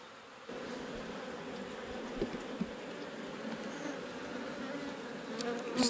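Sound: honey bees buzzing at a stirred-up hive

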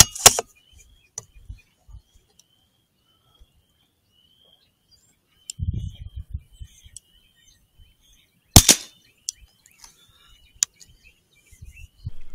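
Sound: rifle gunshots while zeroing Pulsar Thermion XP50 scope

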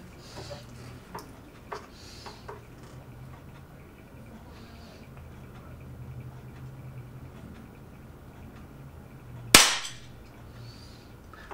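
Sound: Air Arms FTP 900 .177 PCP air rifle shots

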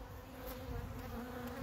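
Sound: killer honey bees buzzing

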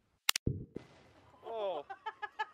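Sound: Tannerite and gasoline explosion blowing up books

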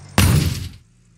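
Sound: crash sound in Gold Rush The Game video game

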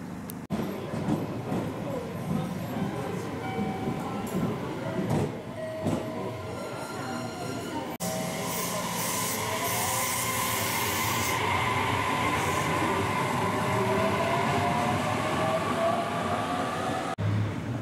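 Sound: electric train running on rails

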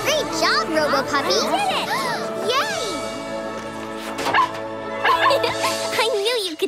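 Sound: cartoon robot puppy barking

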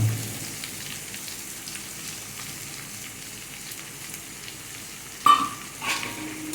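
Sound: sautéing boiled chickpeas with roasted spice powder

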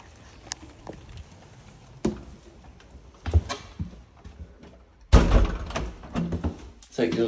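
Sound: UPVC entrance door opening and closing

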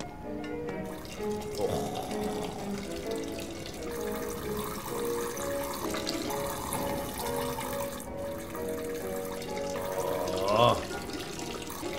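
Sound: character urinating in video game Fears to Fathom

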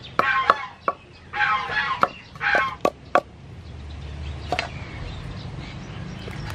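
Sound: pounding garlic with chili

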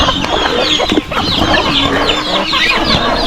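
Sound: chickens clucking while eating

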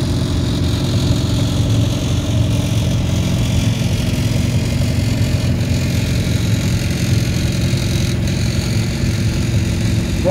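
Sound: Farmall Super C tractor driving by in parade

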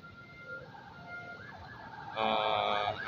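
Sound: ambulance siren

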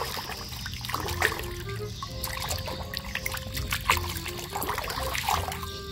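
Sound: washing muddy toy animals with clean water

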